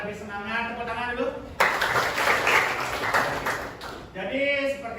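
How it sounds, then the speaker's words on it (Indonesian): A class of students claps together before a lesson, a short burst of clapping of about two and a half seconds, with a teacher talking just before and just after. "Biar lebih semangat, tepuk tangan dulu."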